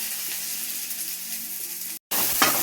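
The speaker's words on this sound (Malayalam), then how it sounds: "അപ്പോൾ വെണ്ടയ്ക്ക നന്നായിട്ട് വഴറ്റി കൊടുക്കാം" Okra sautéing in hot coconut oil, a continuous close sizzle and crackle that holds steady, cuts out briefly near the end, then returns brighter.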